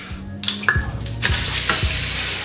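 Loud, steady sizzling of ground beef frying in a hot Cosori pressure cooker pot, with a few scraping stirs and clanks cutting through the continuous crackle.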